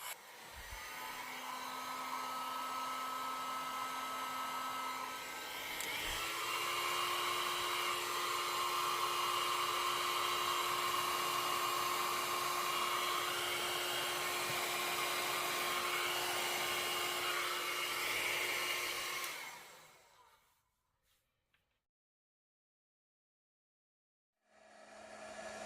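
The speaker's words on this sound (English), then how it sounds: "I switched back to my Baby Bliss hairdryer," A Baby Bliss hairdryer runs with a steady whirring hum, steps up to a higher setting partway through, then switches off into near silence before faintly starting again.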